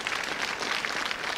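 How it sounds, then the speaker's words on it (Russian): A studio audience on a TV quiz show gives a short, dense burst of applause, with even clapping at moderate loudness throughout. "Аплодисменты."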